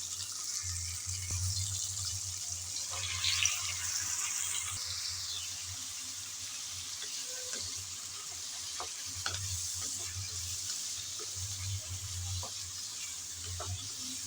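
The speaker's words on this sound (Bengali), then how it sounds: "চিচিঙ্গা দেওয়ার পর ভালোভাবে নেড়ে চেড়ে ভেজে নেব।" Snake gourd and shrimp stir-fry in a pan, giving a close, steady sizzle broken by repeated scraping and clattering strokes of a spatula as the pieces are tossed, with no voices.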